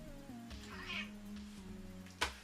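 A cat being held lets out a drawn-out, wavering meow, close and fairly clear, ending with a short rustle.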